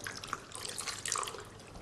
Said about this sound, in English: we need to add some liquid to refresh it. Plain water is great.